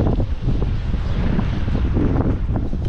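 Strong wind buffets the microphone outdoors on a sunny day, a loud, steady rushing roar with gusty rumbling and no voices.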